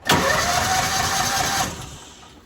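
A Kawasaki Mule 550 utility vehicle engine cranks and roars to life three times, each run lasting a couple of seconds before dying, with brief spoken remarks and clatter in between.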